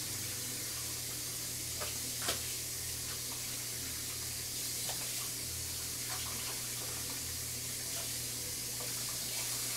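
Lukewarm tap water runs steadily over tripe being rinsed in a kitchen sink, a constant close spray with a low hum underneath and occasional faint knocks.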